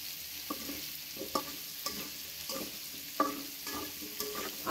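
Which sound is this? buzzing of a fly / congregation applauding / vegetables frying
vegetables frying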